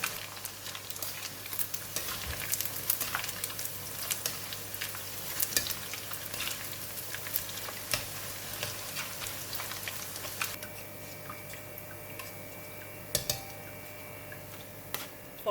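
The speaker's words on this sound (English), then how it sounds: "we're going to do a double fry to make it more crispy" Small anchovies (ikan bilis) frying in hot oil in a pan: a steady, dense crackling sizzle with scattered sharp pops and light ticks, close and continuous, with the texture shifting slightly partway through.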